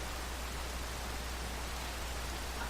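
Video game rain hisses steadily and evenly as a soft, constant wash of noise, with no other sounds over it.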